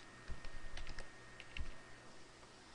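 Quiet keystrokes tap on a computer keyboard during spreadsheet data entry, a handful of light irregular clicks over a steady low hum, no voices.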